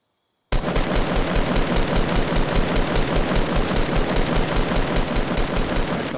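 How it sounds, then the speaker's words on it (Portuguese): Sustained automatic gunfire in Fortnite on PS4, a loud rapid burst of shots that starts abruptly after a brief silence and hammers on continuously to the end. "Vai tomar tiro."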